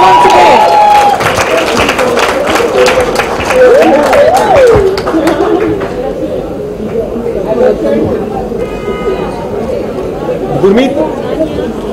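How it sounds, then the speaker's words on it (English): An audience at a book launch for a fitness guide claps in a scattered burst of applause, mixed with crowd chatter and a voice talking over it, then settling into murmuring conversation. "Can we have a round of applause once again?"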